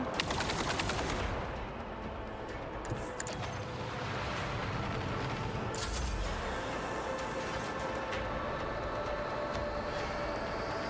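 Weapons fire from ships in the video game Warhammer 40k: Rogue Trader, a dense continuous roar of rumbling blasts and crackling bursts with a few sharper impacts, steady and loud throughout.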